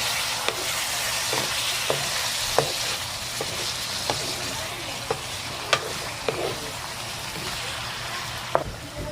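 Pork pieces and their marinade sauce for adobo sizzle steadily in a pan, a constant hiss broken by occasional sharp pops and clinks of stirring, with no one talking.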